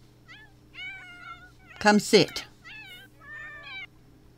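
Cartoonish cat meows from The Sims 4, several short pitched mews spaced across the moment, with a louder burst of game noise in the middle and a person talking over it.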